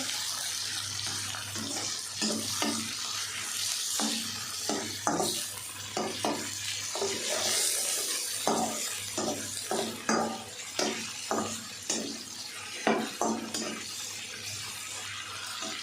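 Chicken for restaurant-style egg fried rice fries on high heat, a constant sizzle broken by repeated metallic stirring scrapes in an uneven rhythm, close and moderately quiet, without any talking.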